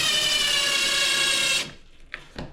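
A power drill drives a screw into a shower door frame during installation, giving a steady whirring buzz for about a second and a half, then a few faint clicks and handling sounds.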